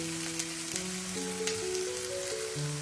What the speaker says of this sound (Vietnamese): Đậu hũ đã chiên vàng ươm rồi thì mình sẽ bỏ vô nồi nước dùng luôn nha.